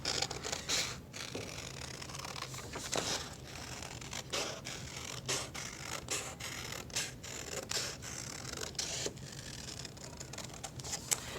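Scissors snip through paper while cutting out a pumpkin shape, giving quiet, irregular crisp cuts and rustles at close range, with brief pauses between snips.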